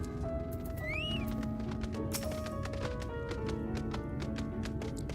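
A horse in Final Fantasy 14 clip-clops in steady hoofbeats, with a whinny and game music tones running underneath, and no talking.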